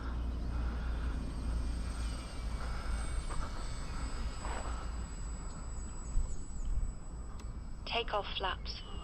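A Micro Draco RC plane flying with some throttle held on, its electric motor a steady whine under constant wind and handling noise, with a few beeps from the transmitter near the end.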